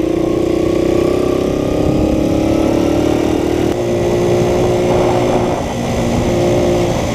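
A Honda PC50 moped's small single-cylinder engine runs steadily and loudly at close range on a café ride, with a droning note that rises slightly and holds without a break.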